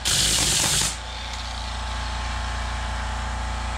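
Compressed air blasts onto a polishing pad in a loud, close hiss for about a second, then gives way to a steady machine hum that carries on to the end.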